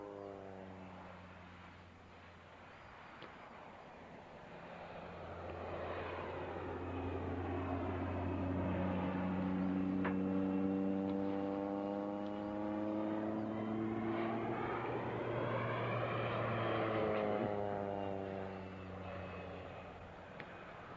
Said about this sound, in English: Very maneuverable aircraft.